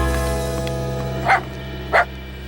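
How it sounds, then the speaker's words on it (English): A cartoon dog gives two short, sharp barks about half a second apart over a steady background hum, with no talking. "Oh, dog, what are you doing?"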